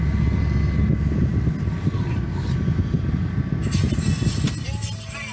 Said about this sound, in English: I need to start the motor so I can straighten up the steering wheel